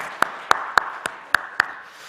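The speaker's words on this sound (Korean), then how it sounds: "네, 박수." A church congregation clapping at an early-morning service, six sharp, evenly spaced claps in a steady rhythm, close and clear against a quiet room.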